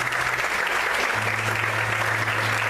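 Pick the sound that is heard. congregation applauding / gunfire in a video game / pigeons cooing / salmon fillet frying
congregation applauding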